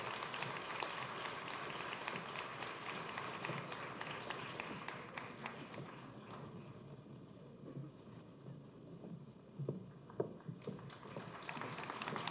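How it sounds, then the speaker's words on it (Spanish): Audience applause at a public event in a hall, dense and sustained for the first half, then thinning into scattered claps and crowd murmur that fade toward the end. "Un fuerte aplauso para"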